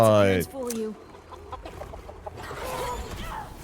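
Clucking from Big Chicken, a giant chicken-like monster in a Monster Hunter game, comes in short bursts of fowl-like calls, loud at first and then softer.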